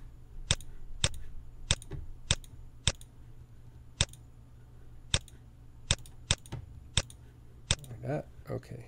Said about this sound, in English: I'll quickly type a sentence here